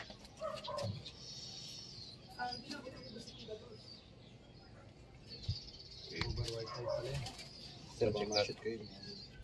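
Soft pigeon coos rise and fall in the background of a pigeon loft while people talk nearby, with occasional shuffling and wing sounds.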